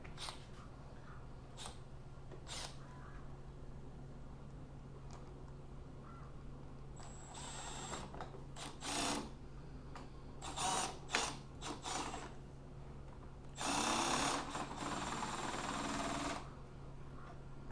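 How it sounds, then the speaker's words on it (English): An impact driver drives screws into a workbench in several short, fairly faint whirring bursts separated by pauses and light handling clatter. "I'm going to just take my standard impact"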